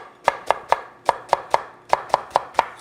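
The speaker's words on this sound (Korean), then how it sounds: "그 다음에 대파 써는데 어디서 썰어줄게요" A knife chops green onion (daepa) on a cutting board in quick, crisp taps, about ten evenly spaced strikes in short bursts with brief pauses between groups.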